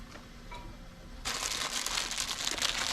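A new pack of HVAC bolts and hardware is handled, the plastic packaging crinkling softly at first and then loudly and steadily, close up.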